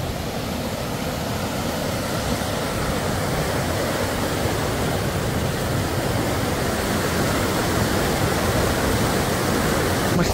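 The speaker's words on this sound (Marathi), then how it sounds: "पाण्याचा आवाज आणि त्याने आवाजावरनं फ्लो कळत असेल आपल्याला" A fast-flowing mountain river in Uttarakhand rushes past in a strong current, producing a continuous, loud broadband roar of churning water with no voices, steady throughout.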